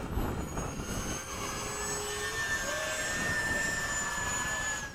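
An RC F/A-18 model jet at a flying field making a touch and go, its steady jet whine and rushing roar holding loud and constant throughout, with faint tonal shifts as it passes.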